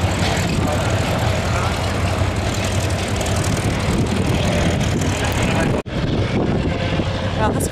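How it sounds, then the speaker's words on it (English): A classic propeller fighter flies a loop at an Easter air show at Omaka near Blenheim, its engine drone loud and continuous throughout, with a brief dropout near the end. "this guy's really good with this plane. Just did a loop-de-loop"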